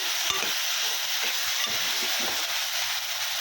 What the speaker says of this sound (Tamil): மட்டனை சேர்த்து கிண்டி கொடுத்துக்கிட்டு